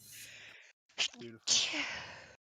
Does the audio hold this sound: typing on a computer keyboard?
no